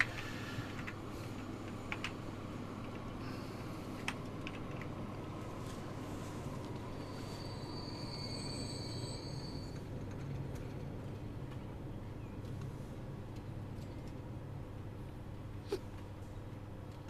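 A train running on rails in the video game Transport Fever, on the Attleborough line, gives a steady, continuous low rumbling drone with a constant mechanical hum that stays even and moderately loud throughout, with no talking.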